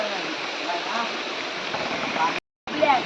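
Water from a dammed stream rushing out through connected pipes while bailing for fishing in Konkan, a loud, constant gushing roar with a brief cutout near the end.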